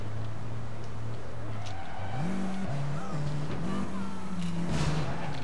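A car engine revs in the video game APB Reloaded, its tone holding low, then climbing in uneven steps as it accelerates and shifts, set under faint background noise and scattered clicks.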